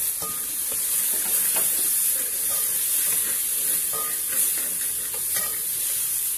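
Spices sizzle and hiss in hot oil while being stirred for green beans, with steady frying crackle and occasional scraping taps throughout.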